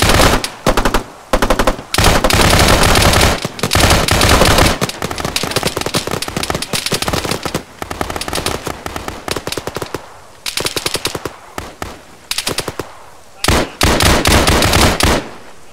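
Loud, close automatic gunfire from the military video game Arma, on the Lythium map in Liberation mode, rattles in long rapid bursts separated by short pauses.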